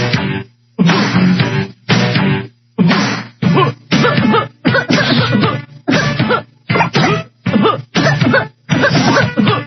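Repeated harsh coughing fits, about a dozen loud bursts in quick succession with brief pauses between, close and prominent.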